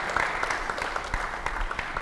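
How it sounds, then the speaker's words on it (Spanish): Members of a church congregation at Iglesia La Fe clap together in a brief, dense burst of applause that fills the hall, with no one talking over it. "Te recibimos con un aplauso de cariño."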